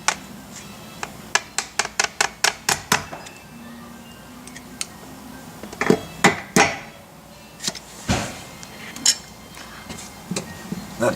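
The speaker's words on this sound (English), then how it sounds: "go ahead and tap this washer back in there" A washer tapped back into place with a hammer on a loose part, a quick run of eight or so sharp metallic taps, then scattered heavier knocks, close and alone.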